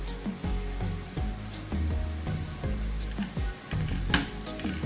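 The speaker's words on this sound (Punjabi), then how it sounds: "ਇੱਧਰ ਆਪਣਾ ਜਿਹੜਾ ਤੜਕਾ ਭੁੱਜ ਰਿਹਾ ਹੈ" Tadka tempering for Punjabi kadhi frying in hot oil, a loud continuous sizzle with repeated stirring scrapes and clinks throughout, heard close with no voices.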